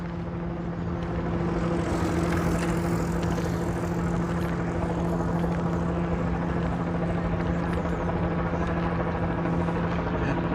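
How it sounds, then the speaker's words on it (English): A helicopter hovers over Central Park in Manhattan at night, its steady thudding rotor hum droning loud and unbroken overhead, mixed with faint city street noise. "We have a helicopter hovering above us."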